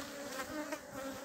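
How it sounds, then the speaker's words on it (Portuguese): Honey bees swarm around a handmade feeder while taking sugar syrup, making a continuous, fairly faint buzzing hum that swells slightly now and then. "então é muito rápido para as abelhas pegar o xarope"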